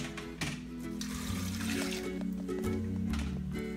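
A cup of water pours into a blender holding tomato, onion and garlic for Mexican fideo soup, a continuous splashing trickle heard close and moderately loud over soft background music.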